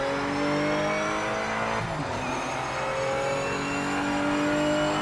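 Race car driven in the video game Project Motor Racing, a continuous loud engine whine with rising and falling revs and gear shifts, steady and close with no talk.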